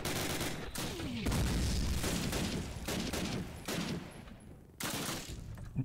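Rifle gunfire in the Call of Duty 4 video game: loud, close bursts of shots in rapid volleys separated by brief gaps, with no talking.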